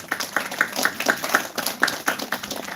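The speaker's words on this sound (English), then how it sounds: "A big round of applause" A round of applause from the audience at a sustainability entrepreneurship event, a small crowd clapping in quick irregular bursts, near and moderately loud, with no talk over it.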